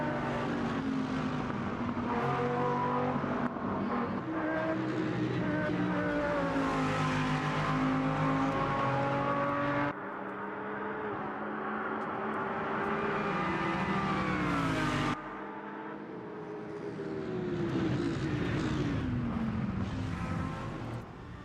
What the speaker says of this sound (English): First GT3 cars are coming to the end of their laps.